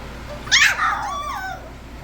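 Young puppies at seven weeks old give a single high yipping bark close by, followed by a short trailing whine, with no talking.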